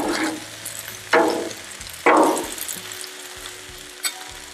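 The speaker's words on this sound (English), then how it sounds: "while we're finishing cooking up all those vegetables" Chicken fajita vegetables with jalapeños sizzling in a hot pan, a close crackling fry that flares in bursts as food is stirred or turned, with low clunks between and no talk.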